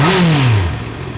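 A Honda CB650R motorcycle engine revs up and its pitch falls back as it settles, loud and close with no talk over it.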